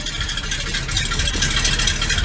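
A loud, rumbling vintage fire truck engine idles steadily with a rough exhaust throb, heard up close at the exhaust and continuous throughout.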